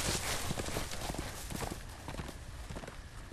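Horse hooves clatter in a rapid, continuous rhythm in the Game of Thrones video game, loud and close, with a dense noisy backdrop throughout.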